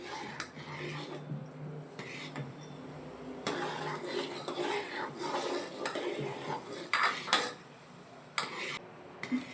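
A spoon scrapes and clanks steadily against the bottom of a metal pot of butter melting into ghee, stirring continuously with irregular knocks and a faint bubbling beneath.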